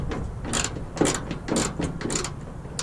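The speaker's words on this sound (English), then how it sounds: "Now I'm going to tighten it a little bit." Ratchet tightening a ditch light bracket bolt on a third-generation Toyota Tacoma, a series of short, close clicking bursts in quick succession with brief pauses between strokes.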